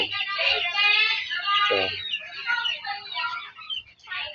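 Chickens and chicks cluck and peep in close, overlapping calls, a busy, fairly loud farmyard chorus with short bursts throughout.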